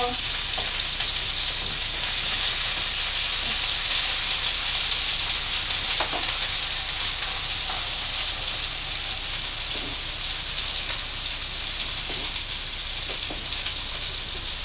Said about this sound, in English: So you see that the sausage is starting to brown quite well.